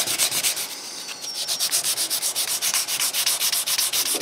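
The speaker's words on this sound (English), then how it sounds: "I use the orbital sander for the flat part." An orbital sander works the flat surfaces of a small carved wooden box, a close, steady rasping hum that pulses rhythmically with each pass, alone and without talk.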